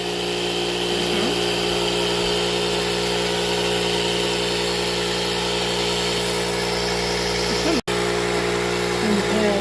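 A Ryobi air pump runs steadily as it pumps up, a constant loud mechanical drone with a brief cutout near the end before it resumes.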